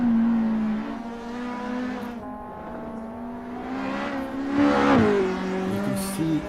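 Race cars in an SRA GTi Challenge round roar down the main straight toward turn 1, a loud sustained engine drone with rising and falling pitch as cars pass close by, no talk over it.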